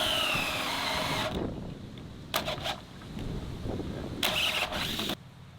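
A drill driving a Spider hole saw through a trailer deck board, a steady grinding whir that cuts in and out in several bursts of varying length, close and loud with no voices.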